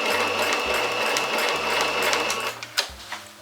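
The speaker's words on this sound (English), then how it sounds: "And we're just gonna sew on over it." Sewing machine stitching over a pleat in a quilt pillow square, a steady close mechanical whir in short bursts with brief pauses and a few clicks near the end.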